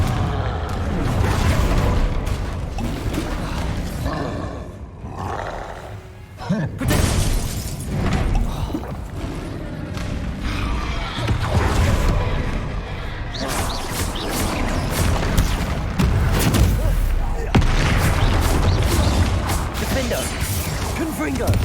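Confringo blasting spells explode repeatedly in a Harry Potter video game, loud crashing bursts and shattering impacts one after another, layered with game effects and shouted spell names.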